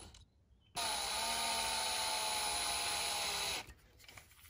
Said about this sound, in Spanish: vamos a meter un tornillo aquí en el tarugo directamente